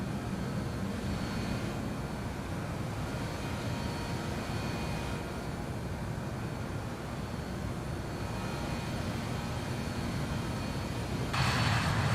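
Jet airliner engines at takeoff power in Microsoft Flight Simulator 2020 departing Amsterdam Schiphol, a steady broadband roar with a faint whine, holding evenly before swelling slightly at the end.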